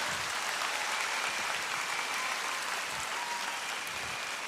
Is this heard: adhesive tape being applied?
no